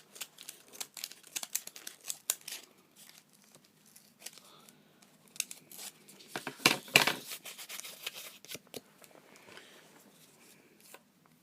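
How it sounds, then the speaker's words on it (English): A utility knife trims cardboard in short scraping cuts and crinkling rustles, sparse and irregular, with a louder burst of tearing and crumpling partway through, close up and quiet, no talking. "I'm just going to extend the knife and start trimming away"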